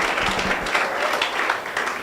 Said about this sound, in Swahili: Tumpigie Bwana Kona makofi.